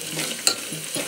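Ginger and garlic sautéing in a pan, a soft close sizzle broken by a sharp clink of a utensil against the pan midway and a couple of brief scraping stirs.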